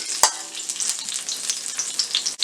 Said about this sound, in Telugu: 3 యాలకులు, 2 లవంగాలు, 1 అనాస పువ్వు వేసుకొని 2 పచ్చిమిర్చి వేసుకొని ఫ్రై చేసుకోవాలి.